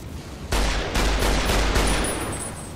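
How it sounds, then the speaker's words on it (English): Survivalist rifle gunfire in the video game Fallout: New Vegas: a loud burst of several rapid shots in quick succession, each with a sharp crack and rumbling tail, alone. "Let me try the survivalist rifle."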